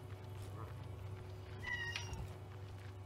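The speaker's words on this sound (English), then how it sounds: "Cat's losing her damn mind." A house cat meows once, fairly distinct but not loud, over a steady low electrical hum, with faint vocal noise around it.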